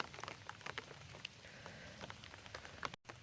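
Rain falling on a wooded trail in Congaree National Park, a faint, steady patter with scattered sharper drips on nearby surfaces and no voices.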